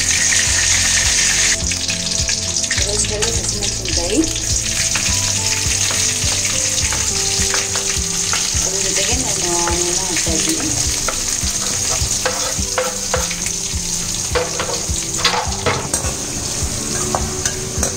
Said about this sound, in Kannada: ಒಂದು ಬಾಣಲಿ ಇಟ್ಟು ಆದಮೇಲೆ ಅದರಲ್ಲಿ ಆಯಿಲ್ ಹಾಕಿದ್ದೀನಿ ಕಾಯೋಕ್ಕೆ. ಸಾಸಿವೆ, ಬೆಳ್ಳುಳ್ಳಿ, ಹಸಿಮೆಣಸಿನ್ಕಾಯಿ,